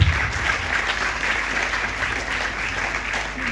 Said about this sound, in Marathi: मुला मुलींसाठी टाळ्या वाजवल्या पाहिजेत किमान